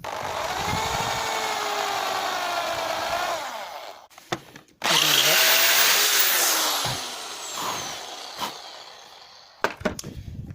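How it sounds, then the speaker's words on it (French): A power drill with an 8 mm bit bores holes into small wooden logs for an insect hotel, its loud whine running steadily, dropping away, then surging again as the bit bites into the wood, with brief pauses and short bursts near the end. "J'ai donc terminé de percer toutes mes petites bûchettes."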